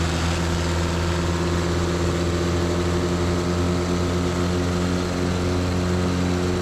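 Zenith CH 750 Cruzer light sport kit aircraft with its propeller engine running steadily at takeoff power, a loud continuous drone with strong harmonic hum filling the whole stretch, no voices.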